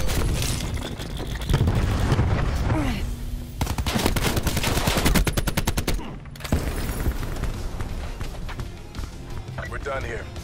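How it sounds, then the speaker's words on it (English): Cluster grenade blasts and rapid gunfire in Black Ops 4, a dense run of loud booms and crackling automatic shots with game voices talking through it. "Cluster grenade going in."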